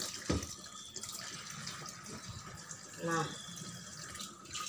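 Tap water running steadily into a basin while curtains are rinsed by hand, a constant splashing under a person talking, with a few louder sloshes.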